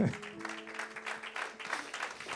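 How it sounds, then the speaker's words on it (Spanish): A church congregation applauds, a faint, scattered patter of claps from a distant crowd lasting a couple of seconds with no speech over it. "Denle un aplauso a Jesús."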